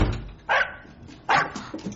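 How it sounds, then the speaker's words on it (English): In a BBC Radio 4 drama adaptation of I, Robot, a dog barks twice, loud and close, with a short gap between the barks and a small yip after the second. "Oh, what a lovely dog."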